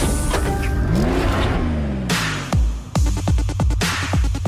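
A customized car with a titanium sports exhaust revs hard and close, sweeping up in pitch, then drops back to idle and snaps through a quick run of sharp throttle blips and crackles.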